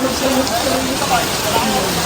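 Steady rain hiss fills the whole clip, an even broadband wash with soft scattered patter, while a voice talks over it.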